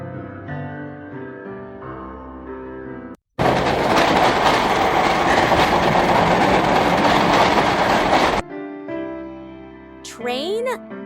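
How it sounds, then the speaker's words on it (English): Train passing at speed, a loud, dense rumbling roar with rattling wheels that holds steady for about five seconds, set between stretches of music and a brief high whistle-like sound. "Train?"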